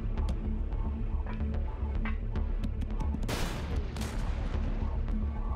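Gunfire in the sci-fi video game Headlander, a run of sharp shots and blasts over a continuous game soundtrack, loudest in a dense burst midway.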